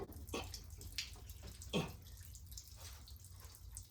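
Water drains from the plugs in the floor of a Squarebody Chevy truck, a steady splashing trickle with a few sharper spills, heard close and without speech.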